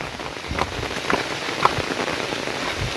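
Unseasonal rain falls steadily in the Konkan countryside, a soft continuous patter on surfaces with a few closer individual drops standing out, no voices.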